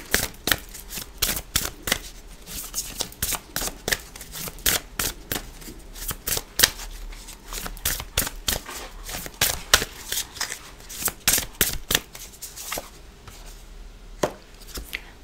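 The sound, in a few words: tarot cards being shuffled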